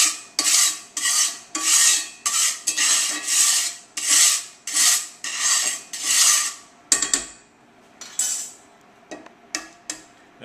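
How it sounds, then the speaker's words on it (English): A spatula scrapes and spreads oil across a pan on an induction cooktop in a rhythmic series of close, raspy strokes, about a dozen, before the scraping slows to a few scattered scuffs. "by the time I get the spatula and spread the oil around"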